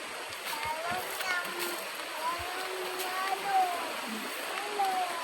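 Strong-flowing water, likely irrigation, rushes and splashes steadily near a rice field, with faint voices and occasional bird-like chirps above it.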